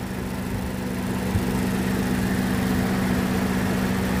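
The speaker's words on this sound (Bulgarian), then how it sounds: "Мърка двигателчето." A 2025 Mazda CX-5 engine idles steadily with a smooth, even hum and a faint low throb, close and constant throughout with no talking.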